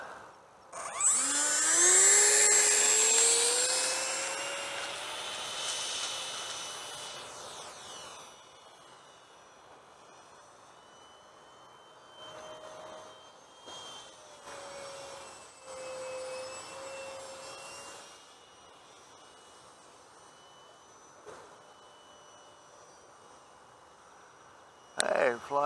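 Small Freewing 64 mm Stinger electric ducted-fan RC jet on a three-cell battery flying overhead: a rising, whining fan tone that is loud at first, then fades and drifts as the jet passes farther away.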